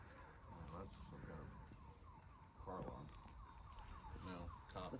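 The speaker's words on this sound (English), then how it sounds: "The siren. It's a siren. It sounds like a siren." Faint distant emergency siren wailing in the woods, rising and falling in a steady cycle, with people talking quietly over it.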